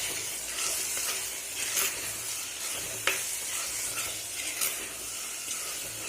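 Tomato masala for a chicken curry being stirred in a clay pot, a soft continuous sizzle overlaid with repeated scraping strokes and a few sharper taps, no voices.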